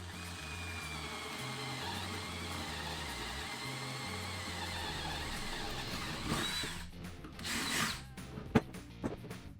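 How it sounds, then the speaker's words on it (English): A power drill whirs steadily through wood, drilling holes for carriage bolts in a router table build, its motor pitch shifting, then stops and a few clunks and handling knocks follow. "And here I'm just drilling the holes that are going to accept the carriage bolts."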